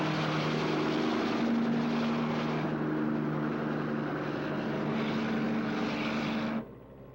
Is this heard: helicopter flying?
yes